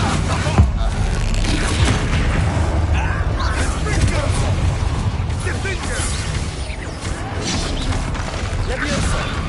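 Spell combat in Hogwarts Legacy on PS5: dense, continuous booms, crashes and clattering effects from the casting of an explosive Bombarda spell fill the whole stretch, with voices shouting over the din.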